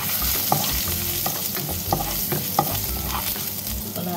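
Garlic and ginger frying in oil for a chicken and celery stir fry, a dense close sizzle with small pops and crackles throughout, no voices.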